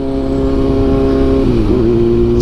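A Kawasaki ZX6R sport motorcycle with an SC Project CRT exhaust holds a loud, steady high rev close by, the tone dipping and wavering slightly near the end with no talk over it.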